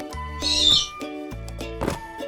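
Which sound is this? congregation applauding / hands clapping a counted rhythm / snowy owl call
snowy owl call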